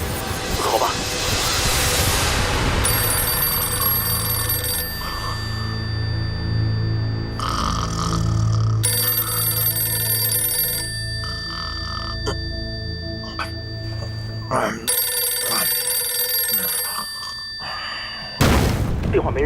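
A field telephone in a war film about the Battle of Taierzhuang rings in repeated bursts and goes unanswered, the bright metallic trills separated by short pauses, with dramatic music and a low boom beneath.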